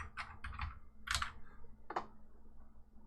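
Short burst of typing on a computer keyboard while entering a plugin search: a handful of quick, light key clicks in the first two seconds, close but soft, over a faint steady hum, with no speech.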